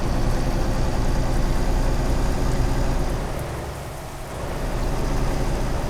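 Heavy rain falls at night in the Euro Truck Simulator game, a dense steady hiss with a low engine rumble beneath. It dips briefly near the middle and then returns at full strength, with no voices.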